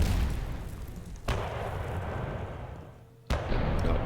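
Heavy artillery pieces firing in the wargame Panzer Campaigns Bulge 44, two sharp booms with a long rumbling tail between them, loud and close with no talk.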